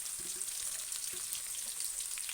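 Onions and green chillies frying in oil for an egg curry give a steady, bright sizzle, with a few soft knocks as the pieces drop into the pan.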